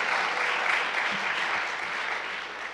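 A seated audience applauds panelists at a discussion event on incarceration, steady dense clapping holding evenly for a few seconds with no voices on top.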